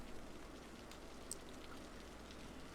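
Steady rain falling in the city-building game Cities: Skylines, a soft continuous hiss with faint scattered drops throughout, no talking.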